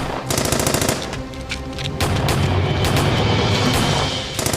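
Rapid automatic gunfire crackles in a Turkish action TV drama. Loud, dense bursts of machine-gun shots and booming impacts run almost continuously, close and intense.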